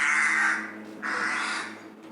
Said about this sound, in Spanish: así es como protestan los loros grises